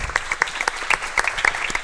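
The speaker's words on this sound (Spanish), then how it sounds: "Yo creo que podemos darles un aplauso" An audience at a talk on Picasso claps briefly, a short burst of separate, distinct hand claps with a sparse, uneven rhythm.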